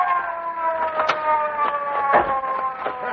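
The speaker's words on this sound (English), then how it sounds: "Hey, Casey, here comes a police car." A police car siren in a 1940s old-time radio mystery drama wails with rising and falling tones, loud and close as the car approaches, with no voices over it.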